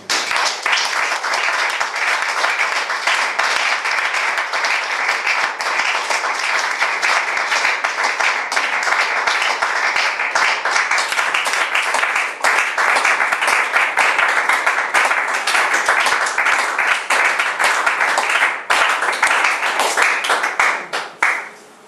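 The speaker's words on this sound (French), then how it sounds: "Est-ce que nous pouvons acclamer encore Dieu ce matin?" A church congregation applauds God together in a sustained, dense wave of clapping that holds steady and loud for about twenty seconds before cutting off abruptly.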